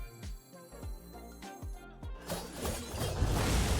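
A Shield Shatter card effect in the Hearthstone video game opens with a few sharp rhythmic impacts, then swells into a loud, bright shattering crash of breaking shards that holds to the end, with no talking.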